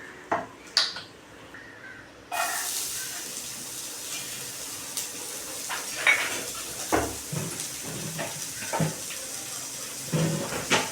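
Chopped onions drop into hot oil in a pan for ragi adai, setting off a soft, low sizzle with a few clinks and stirring scrapes, close and fairly quiet.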